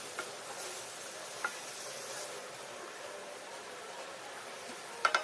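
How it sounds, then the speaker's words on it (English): Mince frying in a pan gives off a faint, steady sizzling hiss, low in level, with a few small clicks and a cluster of sharper ticks at the very end. "we're going to fry the mince for at least 1 whole minute"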